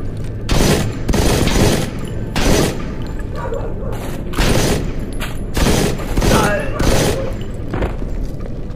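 Modern Combat 4: Zero Hour video game battle, with loud bursts of automatic gunfire and booms in repeated waves, while soldiers shout over the shooting.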